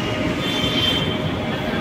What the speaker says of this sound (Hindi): मेट्रो आने वाली है